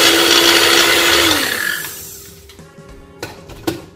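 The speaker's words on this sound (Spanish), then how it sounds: "batimos todo" A blender whirs loudly while mixing protein pancake batter, its motor spinning down after about a second and a half, followed by a few faint knocks and clunks as it stops.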